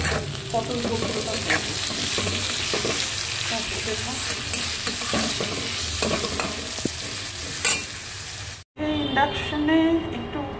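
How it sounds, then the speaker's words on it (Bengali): Bitter gourd frying in oil, a loud continuous sizzle with stirring scrapes, then after a brief cut another pan of frying that fits pointed gourd and lentil bori. "ভাজা চাপালাম, তারপরে পটল বড়িটা"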